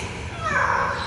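A parrot at a Singapore bird show imitates a cat, giving one short, drawn-out meow-like call over steady background noise.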